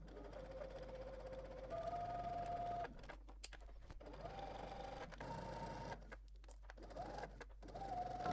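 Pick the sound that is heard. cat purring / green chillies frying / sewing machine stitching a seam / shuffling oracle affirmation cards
sewing machine stitching a seam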